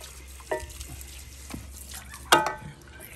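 A cooked rooster is rinsed under a running tap outdoors, with water splashing in uneven bursts and a louder gush near the end. Faint voices are heard in the background.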